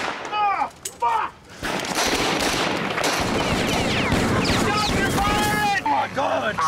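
Gunshots in the TV comedy series Trailer Park Boys, a loud burst of rapid firing lasting several seconds, with shouting voices before and after.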